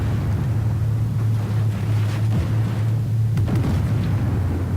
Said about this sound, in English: Man, this gun sounds amazing.